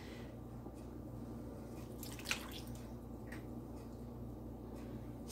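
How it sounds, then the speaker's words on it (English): Worcestershire sauce is poured onto two pounds of ground beef in a bowl, giving a brief, soft, wet splash and drip over a faint, steady room hum. "I'm going to add Worcestershire sauce."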